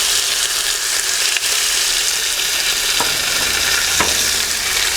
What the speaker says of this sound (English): sear this steak just very quickly, so a nice high heat